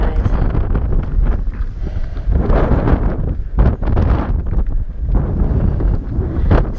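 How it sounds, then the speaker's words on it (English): Wind buffeting a microphone outdoors at the John F. Kennedy Library and Museum, a loud, steady low rumble with gusty surges throughout and no talking. "Now, it probably sounds a lot windier than it is here."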